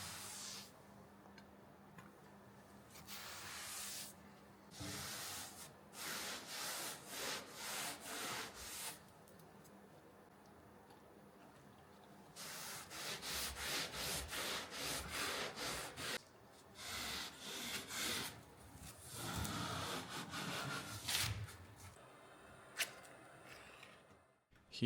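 Wooden boat hull being sanded by hand or machine during repair, a steady rubbing abrasive scrape that runs in bursts and pauses, fairly close and moderately loud with no talking.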